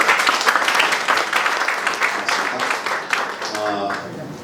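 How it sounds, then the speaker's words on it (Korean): An audience at a Korean academic presentation applauds, a dense patter of clapping that gradually thins and fades over several seconds, with no voices. "박수 한번 주시죠"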